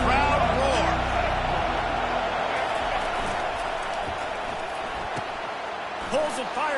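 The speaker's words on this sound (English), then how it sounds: "listen to this crowd roar" A football stadium crowd roars in a steady, loud wash of noise while a play unfolds, with a broadcaster's voice running over it and a brief swell near the end.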